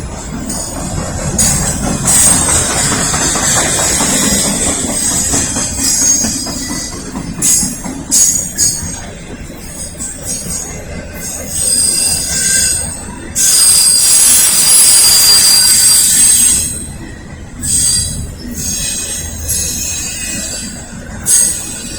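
A Norfolk Southern freight train rolls past close by in Lynchburg, Virginia, its wheels letting out loud, sustained metallic squeals over the steady rumble of railcars.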